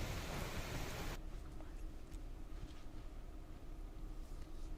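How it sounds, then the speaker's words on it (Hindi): Rain with strong winds in Delhi, a faint, steady rushing hiss that is louder for the first second and then settles into a soft continuous wash. "आज तेज हवाओं के साथ बारिश हुई है"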